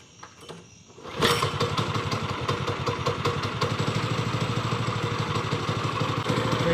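A drift kart's small engine starts up after a quiet moment and settles into a rapid, even, chugging run with a clattery pulse, fairly close and steady.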